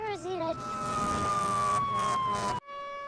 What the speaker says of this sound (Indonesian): Tiba-tiba, alarm sirine kota berbunyi.